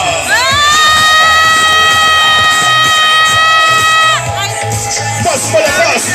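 At a reception at Albert Hall, wedding guests greet the newlyweds with loud, sustained cheering, shouting and high-pitched whoops. A long, piercing shriek rides over the crowd noise before the roar settles to general cheering.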